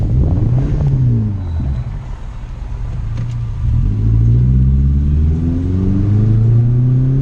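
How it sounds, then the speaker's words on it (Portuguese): A Subaru Legacy GT engine revs up and down while stationary in neutral, rising and falling in pitch over a deep rumbling idle, close and fairly loud. "Vou mostrar aqui pra vocês na neutra o barulho, ó."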